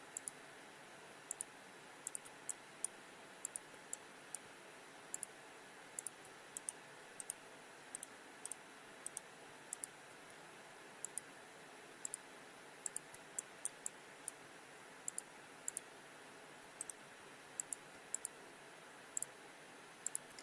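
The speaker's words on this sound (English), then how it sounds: "I'm just shift left clicking." Quiet, sparse clicks from a computer mouse being shift-left-clicked while drawing a denture border in design software, single and paired taps scattered irregularly over near silence.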